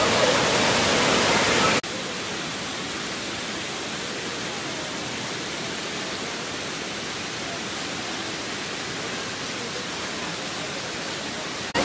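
Water pours down the Ranajileda Waterfalls in the Araku Valley as a dense, steady rushing hiss, loud and close, with no break and no talking.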